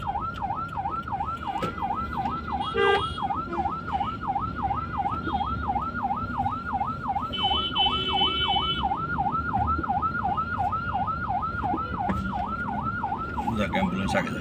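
An ambulance in city traffic sounds a loud, steady wailing siren that sweeps up and down in a regular cycle, continuous over engine and road noise, with a brief horn-like blip early on.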